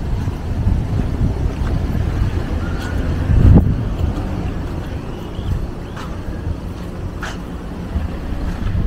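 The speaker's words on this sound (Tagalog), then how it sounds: "Ay, mahangin ah" Wind gusting across a beach campsite in Botolan, Zambales, a steady loud broadband roar buffeting the microphone, with a stronger gust midway and a few faint clicks and knocks.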